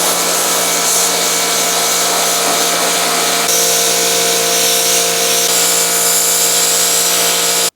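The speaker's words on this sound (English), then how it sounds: "let's give her a good old pressure washing session" Pressure washer running steadily while cleaning parts from an abandoned Evo 8 under restoration, a loud continuous motorized hiss and whine that holds without pause throughout.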